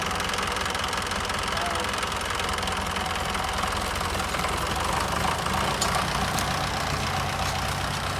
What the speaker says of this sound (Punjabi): ਲਓ ਜੀ ਚੱਲਿਆ ਟਰੈਕਟਰ